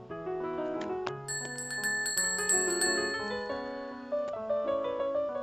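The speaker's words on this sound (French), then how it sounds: "Il tire ensuite sur la cordelette au bout de laquelle pend une petite cloche." A small bell hanging from a pulled cord rings out in several bright, overlapping chimes that rise above a soft, steady melodic background.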